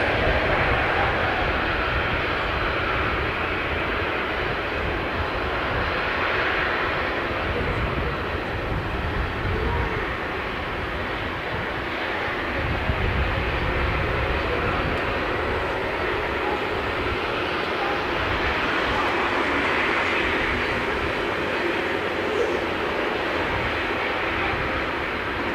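A large jet airliner landing, a broad steady engine roar with rumbling low end holding loud and near throughout, with no voices.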